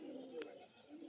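Wet pigeons on a foggy day give a soft, low, continuous cooing, faint and somewhat distant, with a brief brighter chirp partway through.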